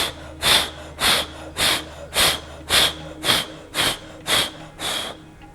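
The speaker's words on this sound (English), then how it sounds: "Exhale forcefully." Forceful exhales during a yoga breathing exercise: about nine strong, hissing nasal breaths in an even rhythm roughly every half second to a second, close and loud, with no talk.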